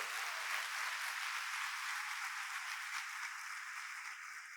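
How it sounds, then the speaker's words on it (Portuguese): Sustained applause from a church congregation during a worship service, steady and dense throughout without pause, fading slightly at the end. "Vamos dar um forte aplauso para esse Deus maravilhoso"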